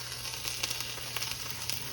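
A turkey Reuben sandwich with sauerkraut sizzles steadily as it toasts on a hot griddle, a close, continuous crackle with small pops and no talking.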